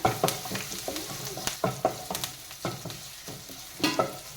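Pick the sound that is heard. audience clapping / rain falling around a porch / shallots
shallots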